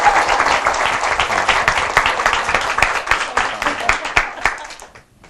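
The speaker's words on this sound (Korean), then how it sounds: "우리 박수 한번 해주세요." A lecture-show audience claps for four guests who traveled from Daegu, a lively, fairly close burst of applause with sharp individual claps standing out, fading out abruptly near the end.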